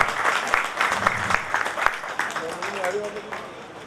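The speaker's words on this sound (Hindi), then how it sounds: "जोरदार तालियां भाई साहब।" Applause from the audience at a Delhi Hindustani Mercantile Association function as a former president is called to the stage, steady clapping under an amplified announcer's voice throughout.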